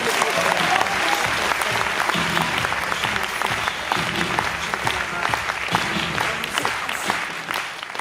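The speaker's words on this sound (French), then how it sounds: "On peut les applaudir très fort" An audience applauding loudly at a live show, dense sustained clapping from a crowd that stays close and full throughout, with no clear voices standing out.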